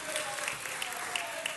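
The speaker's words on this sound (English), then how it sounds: "Let's give them a round of applause." Applause at a city council meeting honoring police captains, a steady broad patter of many hands held at fairly low level for under two seconds, with a few louder claps poking through.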